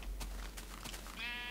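A sheep in the Minecraft video game gives a short bleat, fairly faint and alone, lasting about a second.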